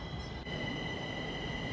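A small three-car Delhi metro train running, a steady close rumble of wheels on rails with a high squealing hum throughout.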